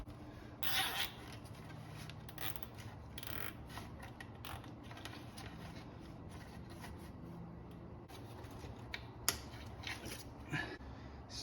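A zip tie ratchets tight during work on a turbocharged MK2 VW Golf GTI, giving quiet, rapid plastic clicks near the mic in a few short bursts, with no talking.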